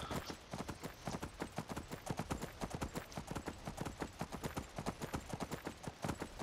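A horse's hooves clip-clop in the video game Skyrim Helgen Reborn, a quick, steady trot of close, sharp beats that carries throughout.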